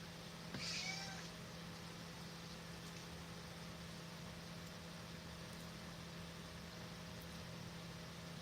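Pumpkin, a pet cat, gives one short meow near the start, then only a steady low indoor hum remains.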